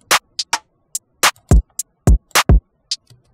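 A boosted kick drum part programmed in FL Studio for a trap-style beat plays alone, with deep booming kicks interleaved with crisp percussion hits in a steady, syncopated rhythm. The low thumps are loud and close.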